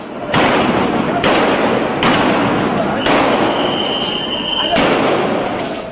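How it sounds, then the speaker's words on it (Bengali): Gunfire and sound grenades from police answering brick-throwing protesters in a 2013 street clash, a rapid series of loud sharp blasts every second or so, close and echoing over a constant roar of crowd noise. "জবাবে আসে গুলি আর সাউন্ড গ্রেনেড।"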